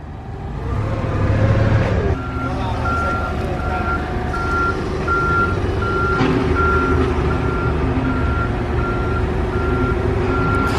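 A truck idles with a steady rumble while its backup alarm beeps in a regular repeating pattern, loud and close.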